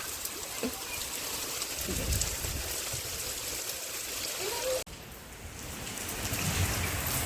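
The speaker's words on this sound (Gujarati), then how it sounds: "અત્યારે છ વાગ્યા છે અને વરસાદ બહુ જ આવે છે" Heavy evening rain pours down in the dark, a dense steady hiss that runs unbroken through the whole stretch with only a brief dip near the end.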